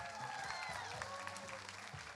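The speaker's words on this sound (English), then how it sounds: "Keep that applause going." Audience applause at a convention costume contest runway, faint and distant, a steady patter of clapping from a crowd with some cheering mixed in.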